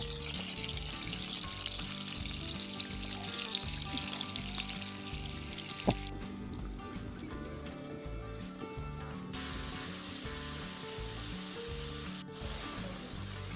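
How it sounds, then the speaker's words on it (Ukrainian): Potatoes frying in batches in a small pan over an open fire, a steady crackling sizzle that runs continuously, close up and without talk, with one sharp clink partway through. "Будемо обсмажувати в два етапи, бо картопельки багато, пательня невелика."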